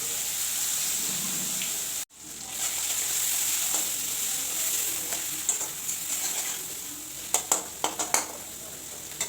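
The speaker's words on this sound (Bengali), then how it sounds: "পেঁয়াজ কুচি দিয়ে এবার পেঁয়াজটাকে লালচে করে ভাজা করে নেব" Chopped onions fry in hot oil in a pan with a steady sizzle, a sharp clatter of utensils near the start and a few light stirring knocks toward the end.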